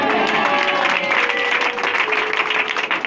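A church congregation bursts into loud, dense applause and cheering, a continuous roar of clapping hands and raised voices filling the room for a few seconds.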